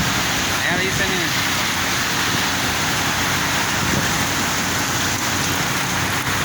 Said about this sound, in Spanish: Ahí nomás para que vean la lluvia en Navojoa, plebe.